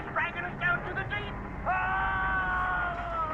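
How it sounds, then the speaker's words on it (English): A drawn-out scream in the video game Call of the Sea, following shorter wavering cries, sustained and tonal over a low rumbling background. "I like that scream"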